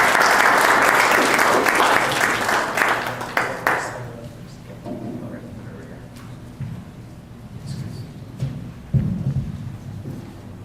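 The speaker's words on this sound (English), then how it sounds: "can we please give them a big round of applause for coming up today?" Audience applause at an indoor small-business tax information forum, a loud burst of clapping for the first four seconds that quickly dies away, followed by quiet room noise, shuffling and a few low murmurs.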